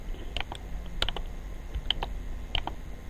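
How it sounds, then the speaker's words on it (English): Close, distinct keyboard and mouse clicks at a computer while working in Photoshop CS5, several sharp taps in quick irregular bursts over a low hum, with no speech. "Sorry for the clicking noises."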